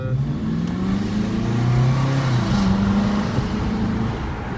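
A Volkswagen Passat W8 engine growls steadily up close, its pitch rising and falling slightly as the revs change.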